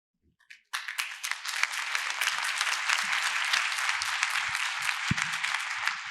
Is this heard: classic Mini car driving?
no